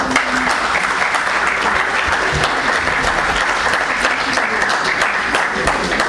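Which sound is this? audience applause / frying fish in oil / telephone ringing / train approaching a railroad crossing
audience applause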